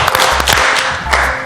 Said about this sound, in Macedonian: Ве молам голем аплауз Кастриот Пашоли